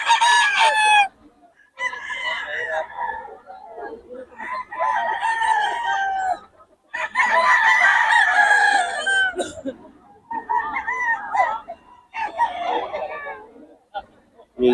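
A Sweater bloodline gamefowl rooster crows loudly and clucks close by, in repeated bursts separated by short pauses, with a voice occasionally talking in the background.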